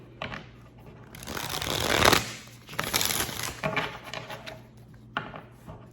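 Tarot cards are shuffled by hand in close, loud bursts of riffling and flapping, several rounds with short pauses between them.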